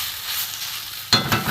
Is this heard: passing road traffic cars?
no